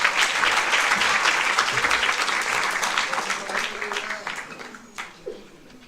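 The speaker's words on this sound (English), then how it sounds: "Please give them a round of applause." An audience at an International Mother Language Day celebration applauds loudly at first, the clapping thinning and fading toward the end as a few last claps trail off.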